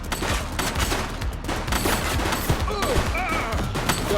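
Rapid gunshots in The Precinct police video game, a steady run of cracking shots at moderate level throughout, somewhat distant-sounding and busy with background noise.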